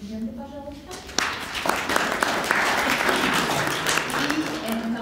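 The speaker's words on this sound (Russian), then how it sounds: "Аплодисменты, пожалуйста." Audience clapping at a blockchain hackathon event, starting abruptly after a voice and building into a steady wash of applause from a moderate crowd, fading as speech resumes.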